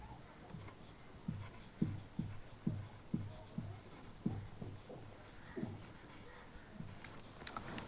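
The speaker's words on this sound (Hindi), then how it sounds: "हम परिभाषा लिख देते हैं, आप लिख लीजिए।" Chalk strokes tap and scrape against a classroom board as a redox reaction definition is written, a steady run of short, soft knocks and scratches close by, with a teacher's voice faintly in the background.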